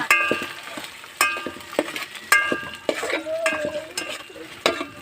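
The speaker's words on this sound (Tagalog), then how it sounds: "Ilagay natin ang sardinas." Sardines stirred in a metal pan on the stove, with repeated sharp scrapes and clinks of a utensil against the pan in an uneven rhythm over a soft sizzle, close and clear.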